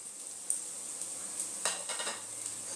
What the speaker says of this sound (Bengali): পেঁয়াজ আদা রসুনটা আমার একটুখানি ভাজা ভাজা হয়ে গেছে